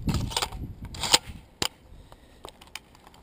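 An airsoft SHS grenade shell packed with BBs is loaded into a DBoys short M203 launcher, giving close, sharp plastic clicks and clacks with a rustling scrape at the start, then scattered quieter taps.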